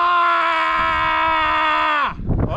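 A person screams loudly outdoors on a cliff top, one long sustained high-pitched cry that breaks off abruptly into a burst of wind and breath noise.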